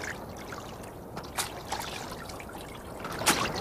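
A cloak strikes river water in a biblical film sound effect, giving trickling, splashing liquid sounds with a few sharper splashes over a running-water bed, moderately close and without speech.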